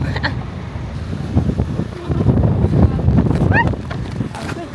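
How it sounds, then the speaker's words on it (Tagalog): Gusty wind on the Bondi to Coogee coastal walk in Sydney buffets the microphone in a steady low roar, rising slightly midway, with faint background sounds and no clear speech. "Super hangin."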